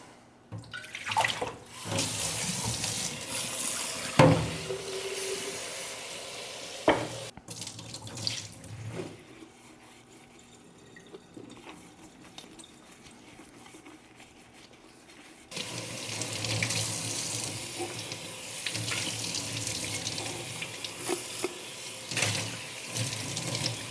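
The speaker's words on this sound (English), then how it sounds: "I'm gonna clean and wash this vessel out" Tap water runs steadily while a plant pot is washed out, with a quieter middle stretch before a strong, close flow resumes.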